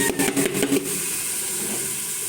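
Fresh greens dropped into a hot pan of fried onion and garlic for a Bengali vegetable curry with prawns, giving a loud burst of sizzling and steam hiss that settles into a steady frying hiss.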